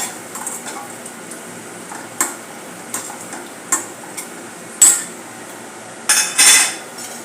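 Onions and turmeric stirred in a pan for kanda poha, with a spatula scraping and clinking against the metal at irregular intervals over a faint sizzle, close and fairly loud, no talking.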